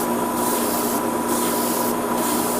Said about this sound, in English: I'm just spraying the parts of the shoulder where I know it's going to be painted.